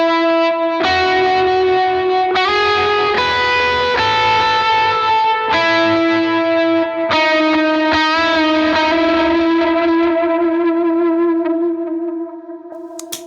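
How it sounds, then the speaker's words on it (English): Electric guitar run through a King of Tone overdrive, dotted eighth delay and big ambient reverb, playing sustained, overdriven melodic notes with shimmering repeats that ring out loud and continuous, fading into a reverb tail at the end. "a king of tone, a dotted eighth delay, and a big ambient reverb"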